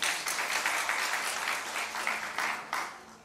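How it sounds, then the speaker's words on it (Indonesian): A church congregation claps together in a dense, lively burst of applause that fades toward the end, with no voices over it. "Tepuk tangan, haleluya"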